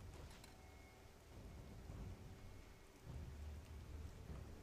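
Rain and thunder in the Minecraft video game, a continuous downpour hiss with low rumbling thunder swelling and rolling underneath, growing louder toward the end, no talking.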